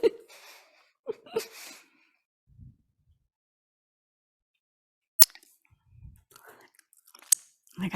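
Crisp food crunching between the teeth during a slow, mindful eating exercise: a few sharp, close bites and chews separated by long silent pauses, with bursts of breathy, vocal-like sound at the start.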